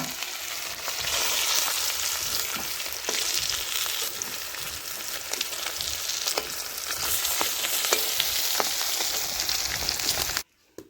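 Hot oil left over from frying pomfret fish sizzles in a pan, a dense, steady crackle with sharp pops and spits throughout, close and loud, stopping abruptly near the end.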